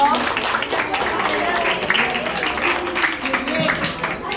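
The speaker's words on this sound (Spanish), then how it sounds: "Un aplauso para los chicos." Students and audience applaud at a school achievement-day event, a sustained wash of clapping with scattered voices and chatter mixed in.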